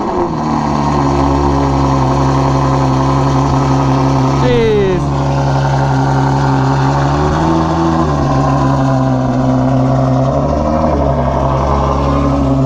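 A Ducati Panigale V4R engine idles with a steady low rumble and close, loud harmonic drone, holding a constant pitch apart from one brief blip around the middle.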